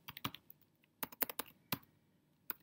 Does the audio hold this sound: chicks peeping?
no